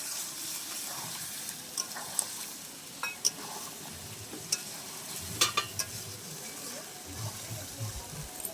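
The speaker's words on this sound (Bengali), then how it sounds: "এবার আমি একটু সামান্য জল দিয়ে দেবো, সব মিশিয়ে একটু সামান্য ফুটতে দেবো।" Water goes into biryani masala with tender young jackfruit, then gets stirred and left to simmer: a faint, low bubbling sizzle with scattered clinks and scrapes of a spoon in the pot, fairly quiet throughout.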